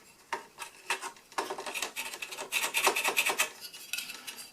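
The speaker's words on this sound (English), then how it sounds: "Actually, I want to sand it slightly." Close, dry scratchy strokes of hand sanding a small V-tail model aircraft part, repeated in quick irregular rubs for several seconds with no talking.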